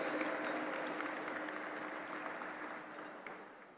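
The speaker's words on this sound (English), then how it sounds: "A huge round of applause for Honorable W. Cole Durham Jr." Audience applause for an honoree at an interfaith summit, a soft, distant wash of clapping that slowly tapers off.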